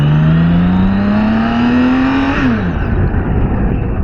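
A BMW K 1600 B six-cylinder sport-tourer bagger motorcycle accelerates hard, its engine note climbing steadily and loudly before a sharp gear change drops the pitch and the revs build again.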